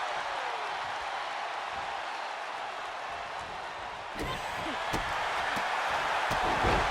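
Crowd at a professional wrestling match roaring steadily throughout, swelling louder partway through as sharp strikes and ring impacts punctuate the noise.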